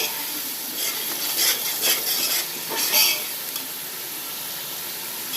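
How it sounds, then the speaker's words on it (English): Onion paste sizzles in hot oil for a chicken dum biryani, with a steady frying hiss and several scraping strokes of a stirring spoon against the pan early on, close and moderately loud. "Fry the onion paste"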